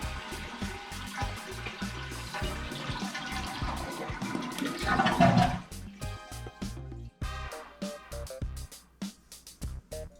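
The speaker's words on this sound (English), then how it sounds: "Let's give it a flush." A household toilet under repair with its water supply shut off gives a loud rushing flush for about five seconds, then tapers into gurgling refill water and scattered drips.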